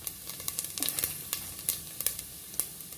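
Cumin seeds sizzle and crackle in hot oil, following urad dal and fenugreek seeds, for a Rayalaseema dry red chilli dal. The sputtering comes as scattered sharp pops over a steady close hiss.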